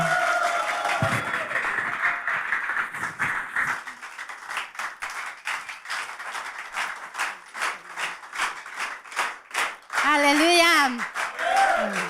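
A church congregation at a worship service claps hands in a steady rhythm for several seconds while people speak and call out over it, then singing voices rise at the end.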